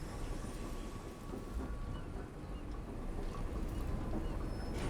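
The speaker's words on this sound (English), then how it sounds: "It's raining now." Steady rain hisses continuously with a low, rolling rumble like distant thunder beneath it in the game Dishonored 2, fairly quiet and without voices.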